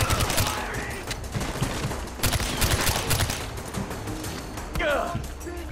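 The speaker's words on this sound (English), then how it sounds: "Oh, dude, I'm getting shot up." Rapid gunfire bursts from the Far Cry 4 video game, dense overlapping volleys and machine-gun fire crackling continuously throughout, close and loud with a brief whooshing effect near the end.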